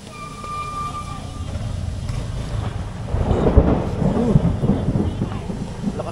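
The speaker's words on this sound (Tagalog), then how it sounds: "Lakas ng kulog ah." Loud thunder rumbles and rolls through a rainy evening, building in the second half into a deep, booming peal with rain steady underneath.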